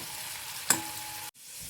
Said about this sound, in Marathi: या ज्या शिरा आहेत दोडक्याच्या त्या तळून घेणार आहोत।